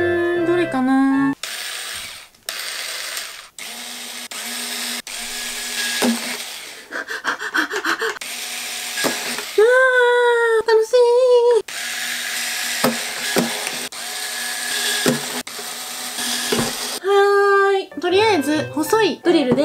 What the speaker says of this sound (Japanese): 細いドリルで穴は開きました